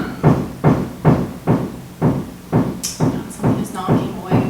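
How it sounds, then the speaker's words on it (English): Steady knocking on wood, eight evenly spaced dull thumps about half a second apart, close and fairly loud, with a few faint higher clicks partway through. "Someone is knocking away."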